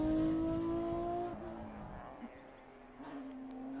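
A Porsche GT rally car's engine drones faintly at a distant Belgian rally stage, its pitch settling lower after a brief steady note. It is quiet and far off, with no talk over it.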